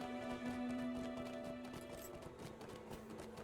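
A horse's hooves clip-clop at a steady trotting pace in the fantasy game Lord of the Rings Online, faint and even against a droning background.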